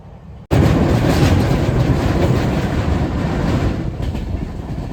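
The Falaknuma Express picks up speed after leaving Kharagpur station, starting with a sudden loud onset and then a continuous rumbling roar of wheels on rails, heard close from inside the train.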